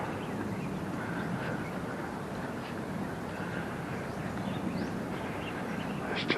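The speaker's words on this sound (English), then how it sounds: "There's just no noise at all apart from the birds." Birds sing in a landscaped park in Chiang Mai, Thailand, with scattered chirps and calls over a steady outdoor hiss, moderately distant and continuous.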